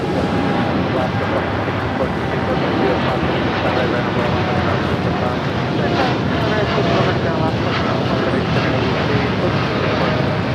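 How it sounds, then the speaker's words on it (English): An ANA Boeing 787 Dreamliner taxis toward the gates at LAX Tom Bradley terminal, a steady broadband jet rumble and roar that stays constant throughout, with wind buffeting the microphone and faint background talk underneath. "It's the ANA Dreamliner heading to the gates of Tom Bradley."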